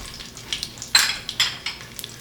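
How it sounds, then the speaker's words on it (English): Roughly crushed garlic cloves drop into hot oil in an Instant Pot, giving a few short, crackling sizzle bursts with light stirring clatter, the loudest spurt near the middle, alone and close. "I have just roughly crushed these garlic cloves. So I'm going to put that."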